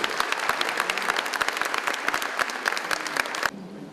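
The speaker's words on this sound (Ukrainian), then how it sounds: "Гучні оплески для військових." Loud, brisk applause for the military at a prayer breakfast in Lviv, many sharp claps filling the room before cutting off abruptly near the end.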